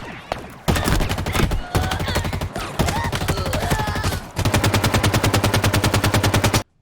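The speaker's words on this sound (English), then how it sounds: "the first thing I picked up on was the sound of the assault rifle" Rapid automatic assault rifle fire in Halo Infinite, bursts of sharp shots cracking close and loud, with clicks and effects between bursts, ending in one long sustained volley.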